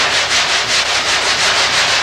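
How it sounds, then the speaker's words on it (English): Steady hand sanding of thin car body sheet metal with a grit sandpaper block during bodywork repair, a loud rasping scrape pulsing in even back-and-forth strokes about twice a second, heard alone. "Just start sanding."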